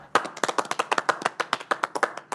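Studio audience clapping in a single burst of sharp, separate claps with a quick, irregular rhythm, close and clear, with no talking over it.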